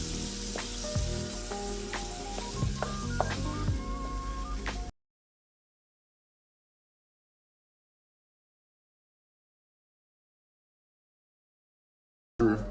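Paprika sizzling in a hot pan, a close, crackling fry with stirring clinks for a few seconds before it goes quiet.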